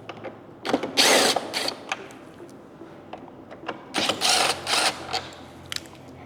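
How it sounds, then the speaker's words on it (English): Screws are backed out of a Harley CVO motorcycle fairing in two separate whirring bursts of a power driver, fairly close, with quieter clicks and handling noise between them. "we're going to take out these screws next"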